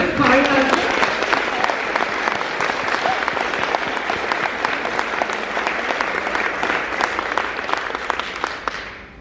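An audience claps loudly and continuously for a civic choir at a concert band performance, a dense sustained round of applause that tapers slightly near the end.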